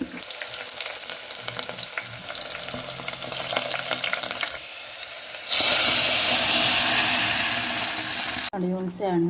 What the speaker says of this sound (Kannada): ನೋಡಿ ಹುಣಸೆ ಹಣ್ಣಿನ ರಸನೂ ಸೇರಿಸ್ತಾ ಇದ್ದೀನಿ.